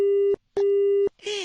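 A telephone busy tone sounds after a call is cut off on a radio comedy show: two steady, loud beeps with a short gap between them, then a brief burst of other sound.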